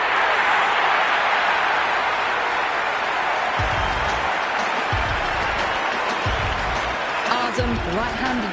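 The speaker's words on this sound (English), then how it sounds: "The crowd is electric right now." A cricket stadium crowd at an India vs Pakistan T20 final in Lahore, a loud, dense roar of cheering and applause sustained throughout, with a few low thumps and a commentator talking over it.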